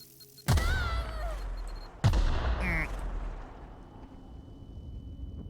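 Concussive explosions in the video game The Outer Worlds, two sharp, loud booming blasts about a second and a half apart, each trailing into a rumbling decay, with game effects ringing out afterward.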